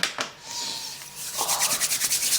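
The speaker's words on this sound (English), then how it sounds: "sorry, rubbing my hands, it's cold" Two hands are rubbed briskly together against the cold, starting with a few soft swishes and then turning to a fast, rhythmic run of close, dry rubbing strokes.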